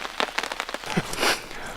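Steady rain falls on an outdoor surface on a rainy day during a canoe trip at Biscotasing, with dense scattered drops pattering close by and no speech.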